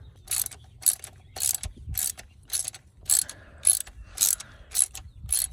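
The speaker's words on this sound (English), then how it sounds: "we just snapped on both of our cables" Throttle cables snap onto the throttle cable bracket of a Jeep Cherokee XJ during an injector swap: about ten short, sharp clicking and ratcheting bursts at a fairly even pace, close and quiet between them, no talking.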